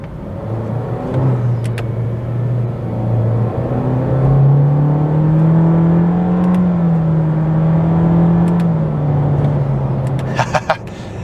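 Honda ZR-V Turbo accelerating, a steady close engine drone with a rising and falling turbo whine over rumbling road noise, sustained throughout, a few faint clicks near the end.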